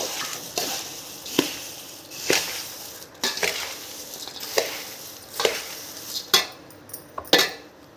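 Spoon or spatula scraping and clinking against a pan while fried chivda ingredients are tossed together, a run of sharp metallic knocks and rustles spaced every second or so, close and clear with no talking.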